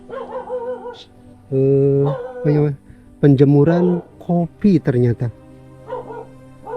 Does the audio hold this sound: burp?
no